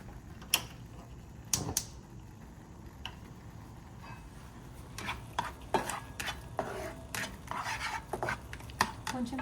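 Egg frying in a pan with noodles, being stirred and scraped with a utensil: soft sizzle under repeated clinks and scrapes, busier toward the end, with quiet speech in the background.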